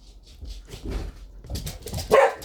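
A dog barks and yips nearby, with short whimpering sounds building to a louder bark at the end.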